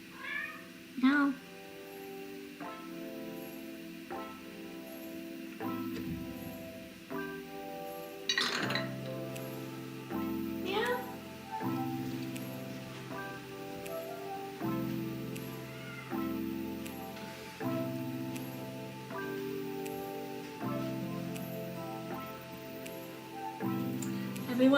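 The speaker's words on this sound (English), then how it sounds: "My cat saying hi." A domestic cat meows repeatedly and vocally, close by, over steady background music, with occasional light glassy clinks.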